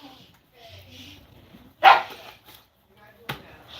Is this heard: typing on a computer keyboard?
no